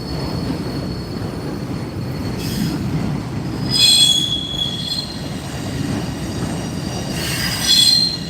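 A freight train rolls past nearby in New Orleans, its wheels giving repeated loud, high-pitched squeals over a continuous heavy rumble of rail cars.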